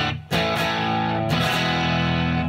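An electric guitar runs through a Headrush rig with crunchy distortion and a touch of fattening boost, two loud strummed chords ringing out thick and sustained, with no talking.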